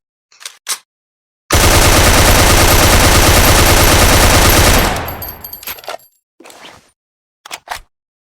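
An animated SCAR-L assault rifle fires a loud, dense burst of automatic shots lasting about three seconds, followed by fading clatter and a few short mechanical clicks before and after.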